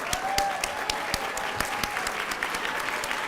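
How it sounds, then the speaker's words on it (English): A graduation audience gives a round of applause, a broad steady clapping from many people with individual sharp claps popping out close by, continuing throughout. "I want to have a round of applause for you guys and your hard work"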